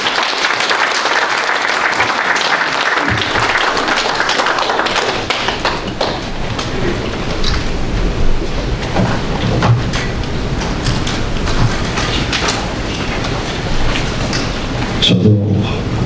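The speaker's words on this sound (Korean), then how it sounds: "박수로서 환영해 주시기 바랍니다." A large gathering of pastors at a symposium applauds to welcome a speaker, loud, continuous crowd clapping that swells early and carries on steadily with a few heavier thumps near the end.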